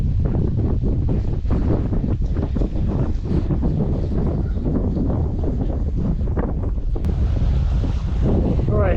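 Strong coastal wind buffets the microphone in loud, continuous gusts, with surf and waves faintly beneath the roar.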